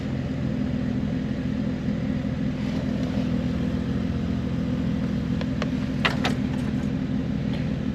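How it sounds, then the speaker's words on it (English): A repaired car engine idles steadily, a continuous low rumble that runs evenly throughout with a few faint clicks or jingles near the end. "I think now the idling is a lot smoother, so like the car doesn't feel like it's stuttering as much as it used to"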